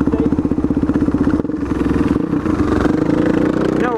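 A Suzuki DR-Z motorcycle engine runs close by with a loud, throbbing single-cylinder beat that rises and falls as the throttle is worked.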